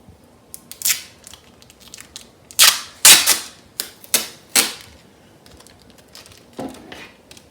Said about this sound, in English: then we're going to take another layer of duct tape